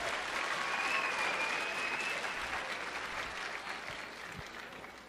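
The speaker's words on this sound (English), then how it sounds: "Give those guys another round of applause." Audience applause fills a school assembly hall, steady and dense for about five seconds, then thins slightly as it tapers toward the end.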